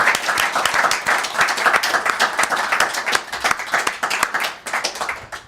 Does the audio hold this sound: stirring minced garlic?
no